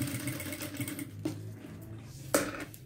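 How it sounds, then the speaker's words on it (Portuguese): Sewing machine topstitching a seam on a fabric toiletry bag, with a faint, rapid mechanical chatter that pauses briefly between short bursts, close but quiet. "E aí, passa uma costura para rebater. Agora, rebate essa costura."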